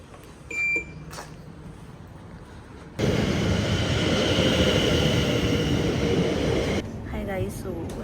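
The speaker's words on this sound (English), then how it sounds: "right now we are in the train, like on our way to North London" Steady low rumble and broad hiss of a train running toward North London, heard from inside the carriage for several seconds, with a faint beep and quieter stretches before and after the loud run.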